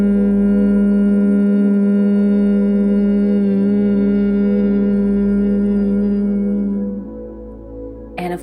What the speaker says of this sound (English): the mouth is going to stay closed, but we're going to want to open up the throat space as we hum.